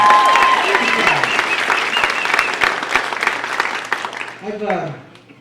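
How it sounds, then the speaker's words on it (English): A comedy club crowd applauds military members in the audience, loud sustained clapping with cheers, tapering as a voice begins speaking at the end. "How about a round of applause for the military people?"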